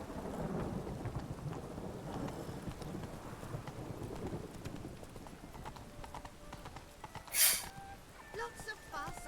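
Rain falls steadily in The Witcher 3 while a horse's hooves clip-clop along, with a low roll of thunder and a sharp crack near the end, all fairly faint.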